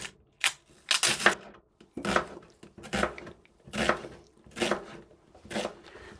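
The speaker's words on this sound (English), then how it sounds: "And then I'll chop up the onion." Onion being chopped with a knife on a board in a home kitchen, making a series of sharp, irregular chopping strokes, close and moderately loud with brief pauses between them.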